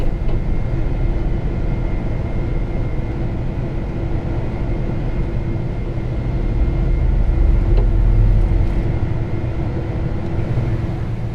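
A Boeing 747 climbs after takeoff, with a steady, loud low roar and rumble of engines and airflow inside the cockpit holding for the whole stretch, no voices.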